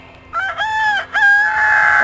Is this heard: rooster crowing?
yes